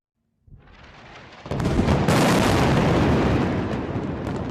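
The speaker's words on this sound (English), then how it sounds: "It was another night of explosions in Gaza City as heavy Israeli airstrikes and Palestinian rocket fire continued." A deep, sustained roar of heavy blasts from airstrikes and rocket fire at night in Gaza City, starting low and swelling into loud, continuous rumbling booms with a harsh noisy crackle.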